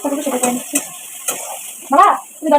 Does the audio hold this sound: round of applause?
no